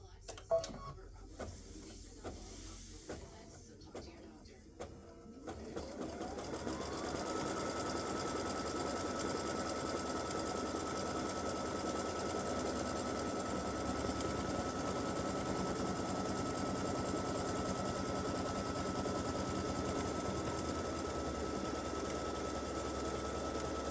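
An embroidery machine running a placement stitch on a fabric mug rug, a steady close mechanical hum with rapid needle rhythm that starts after a few seconds of quieter clicking and holds evenly to the end.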